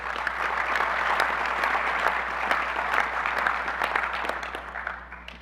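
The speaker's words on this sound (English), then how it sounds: "Please give them a round of applause." Sustained round of applause from the audience at a 2017 annual business meeting, many hands clapping evenly and fairly close for about five seconds before tapering off, over a low steady room hum.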